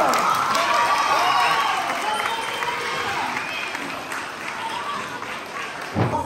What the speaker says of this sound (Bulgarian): Аплодисменти за Кико!